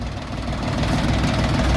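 A Jinma 244 Lux tractor engine runs at its lowest speed, giving a steady, low, rumbling drone that builds slightly and stays close and constant.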